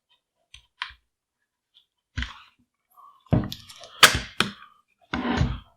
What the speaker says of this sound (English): We're going to push inward on the recoil spring guide.